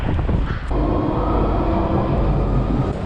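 A London Underground train roars loudly and steadily at Liverpool Street station, a dense rumbling noise with a brief dip near the start and no talking.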